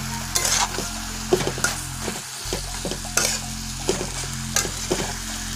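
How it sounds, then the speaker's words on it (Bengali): Shredded chicken with raw onions stirred through it as it fries in a pan for paalong, with a steady sizzle under repeated scraping stirs of a utensil against the pan at a regular rhythm, close up and with no talking. "সে পেঁয়াজটা এর ভিতরে মিশিয়ে দিন, দিয়ে ভালো করে নেড়ে দিন"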